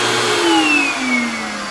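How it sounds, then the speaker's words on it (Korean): A vacuum cleaner, used with a brush to suck dust out of a computer, whines loudly and close, its pitch sliding gradually downward over a short burst. "청소기로 빨아들이면서 그걸로 먼지를 살살 긁어내면 청소가 간단합니다"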